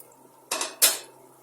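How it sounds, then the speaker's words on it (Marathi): A metal spoon scrapes twice against a pan while masala cooks for a bottle gourd (lauki) sabzi: two short, close clatters about a third of a second apart over a quiet background. "आता हा मसाला व्यवस्थित आपण शिजवून घेऊया"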